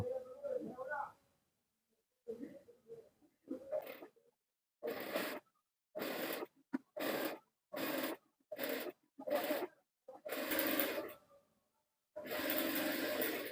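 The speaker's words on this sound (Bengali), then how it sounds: "দুটি ভাঁজ দিয়ে সিলি করে নিলাম" A sewing machine stitches a double-folded pajama hem in a run of short, rhythmic bursts separated by pauses, each burst a close mechanical whir. Brief quiet talk comes before the stitching starts.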